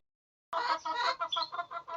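A hen clucks up close as she circles looking for a nest, starting abruptly after silence and going on as a run of rhythmic, repeated clucks with no talk.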